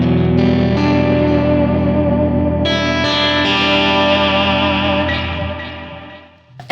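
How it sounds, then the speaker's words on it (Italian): PRS Custom 24 SE semi-hollow electric guitar played through heavy delay and big reverb, sustained chords ringing and echoing in long washes, each new strum layering over the decaying tail before fading out near the end. "Un gran delay, un gran riverbero."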